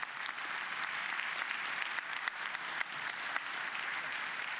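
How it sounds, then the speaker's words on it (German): Steady, dense audience applause for prize winners at an event, continuous and fairly loud throughout with no voices over it. "Nochmal euer Applaus."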